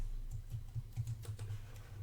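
Quiet, irregular clicks of a computer keyboard being typed on, roughly a dozen soft keystrokes in uneven bursts, close by and alone.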